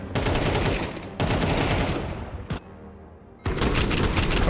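Rapid bursts of pistol gunfire in a Counter-Strike match, loud and dense, with sharp cracks stacked into volleys, a brief quieter gap of lingering echo, then another heavy barrage.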